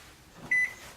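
A microwave oven set to cook rice gives a single short, bright electronic beep after a faint button press, then a soft hum as it starts running.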